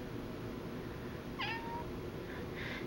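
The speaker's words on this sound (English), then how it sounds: "Look at that cat." A pet cat gives a single faint, short meow partway through. The room is quiet apart from a steady background hiss, and no one talks.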